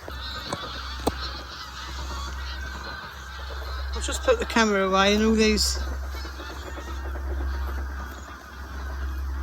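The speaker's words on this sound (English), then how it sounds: "I don't know if they're geese, ducks or what they are." A goose's loud, wavering honk rises clearly over steady low background rumble on the northeast coast of Scotland, while someone speaks briefly nearby.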